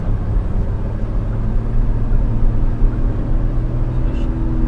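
A 2025 Hyundai Bayon's 1.0 TGDI turbo petrol engine pulls under acceleration, heard from inside the cabin as a steady low rumble with a faint rising hum and road noise, no voices.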